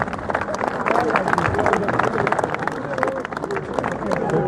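A crowd at a veterans' gathering against extremism in Birmingham claps loudly and steadily, the dense applause mixed with crowd babble and voices.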